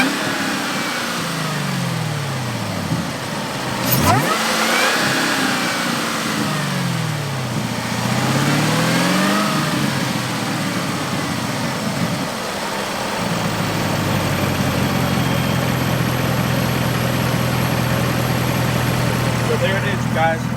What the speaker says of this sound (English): hopefully you can hear the whine from this side